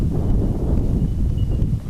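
Steady wind rumbles and buffets the microphone outdoors in open countryside of the Main Range, a low continuous roar with no pauses.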